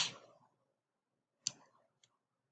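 A computer mouse clicks a few times, sharp and close, with short silent gaps between the clicks.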